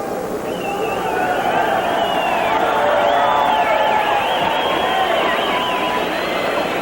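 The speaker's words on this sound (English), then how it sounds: "the roar of the crowd greets Alexis Arguello" A boxing arena crowd in Miami roars for Alexis Arguello before his bout with Vilomar Fernandez, a dense, steady wall of cheering and babble with whistles rising through it, loud and continuous throughout.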